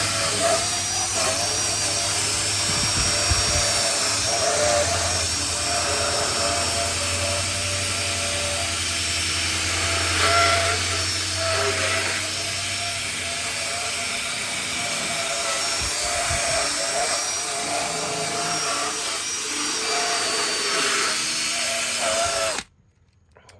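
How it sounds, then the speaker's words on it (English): Ordinary drill spinning a cleaning brush on a grimy car interior, a steady, close high-pitched whir that runs for most of the stretch and stops abruptly at the end, with no talk. "just literally on a regular drill"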